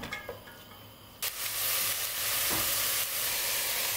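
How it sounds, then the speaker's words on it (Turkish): Onions and peppers sautéing in olive oil in a pot for chicken soup, a few clanks at first, then a loud, steady hissing sizzle with occasional stirring scrapes. "Şöyle 4-5 yemek kaşığı kadar zeytinyağında öncelikle biber ve soğanları küçülene kadar kavuruyorum."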